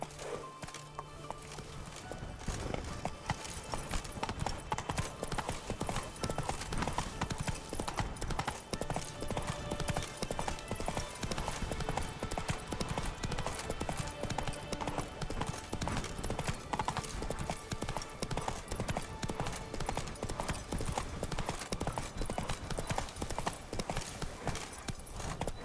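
Geralt's horse Roach galloping in The Witcher 3, a fast, steady drumming of hooves that holds loud and continuous for the whole stretch, with game sounds layered underneath.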